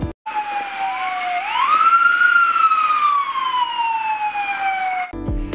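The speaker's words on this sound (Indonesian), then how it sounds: "Ada mobil pemadam kebakaran." A toy fire truck siren wails loudly, its tone sliding up and then slowly falling in one long sweep, close and clear, cutting off abruptly after about five seconds.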